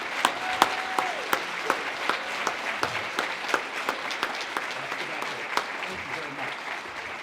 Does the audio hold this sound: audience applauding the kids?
yes